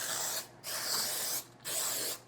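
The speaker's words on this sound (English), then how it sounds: "I use the non-stick spray so that I can stick the parchment to the pan" Three short hissing bursts of non-stick cooking spray onto a baking pan, close and fairly loud, with brief pauses between them.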